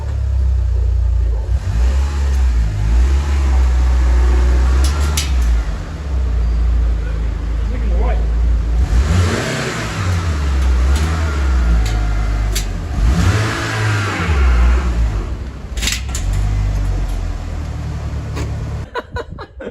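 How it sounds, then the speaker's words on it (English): A Mitsubishi Evolution 6 engine revs hard as the car climbs onto ramps with a slipping clutch, a loud, sustained mid-pitched drone that swells in repeated bursts over about twenty seconds, with voices talking over it. "So you really have to give it some revs."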